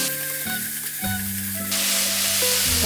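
Carrots, onion and paprika stir-fry in a hot pan with a loud, continuous sizzle that swells partway through, along with light stirring noises close by and no speech.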